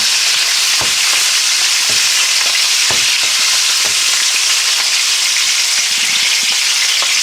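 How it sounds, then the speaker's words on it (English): Cold smoked filet mignon pan frying over high heat, a loud, dense, unbroken sizzle with scattered pops and soft thuds as the pan is rocked, close and without talking. "Cold smoke them, pan fry them. And what you'll do is just rock the pan."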